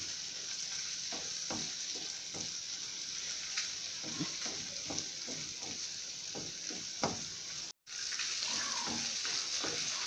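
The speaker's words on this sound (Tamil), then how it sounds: "இதில் வந்து வெங்காயம் தக்காளி மிளகாய் எல்லாமே நமக்கு நல்லாவே வதங்கிருச்சுங்க." Onion, tomato and chili sautéing in a pan for chutney, a steady loud sizzle broken by repeated scraping stir strokes throughout, with one brief dropout near the end and no talking.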